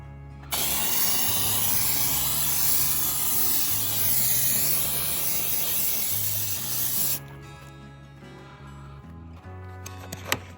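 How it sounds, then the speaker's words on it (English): A foaming sprayer hisses out Optimum Hyper Foam onto a car in a long continuous spray, loud and close, then cuts off, leaving faint clicks and handling noises. "All right, so let's use the foaming sprayer first."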